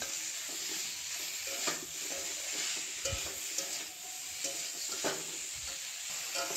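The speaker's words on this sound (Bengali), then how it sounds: "দেখো ভালো করে আমি কষিয়ে নিচ্ছি" Katla fish with cauliflower and ginger paste is being stir-fried in a pan, giving a soft, steady sizzle with intermittent scraping and stirring knocks, fairly quiet and close.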